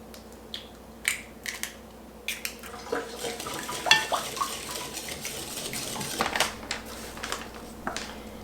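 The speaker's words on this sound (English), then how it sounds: "I'm also going to add an egg and then get this whisked together really well." Egg being whisked into a gluten-free graham cracker dough in a bowl: scattered clinks and taps of a utensil against the bowl, irregular and fairly quiet, growing into a busier stretch of scraping and clatter.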